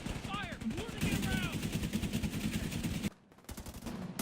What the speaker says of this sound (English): if they are close by and they hear the guns firing